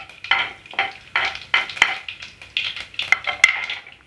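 Mustard seeds, urad dal and cumin frying in hot oil for dal sambar, with a busy close sizzle, sharp popping bursts and repeated stirring scrapes of a spoon against the pan, fairly loud and without talking.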